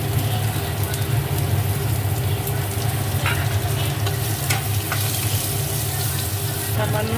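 Chopped onion and garlic sizzle steadily in a kadai of hot oil with black cumin and dry red chilli, a continuous dense frying hiss with faint stirring scrapes throughout.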